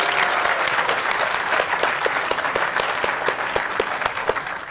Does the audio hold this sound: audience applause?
yes